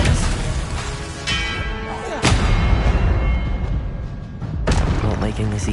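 Expelliarmus disarming spells cast in Hogwarts Legacy, heard as several booming, gunshot-like blasts amid continuous loud game combat noise, with sharp impacts spaced a few seconds apart.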